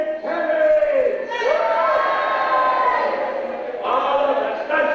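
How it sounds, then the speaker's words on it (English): A crowd at a supporters trust launch night in 2002 cheers and shouts with applause mixed in, a loud, sustained roar of voices filling the hall for the whole stretch. "that's nice round of applause for the supporters"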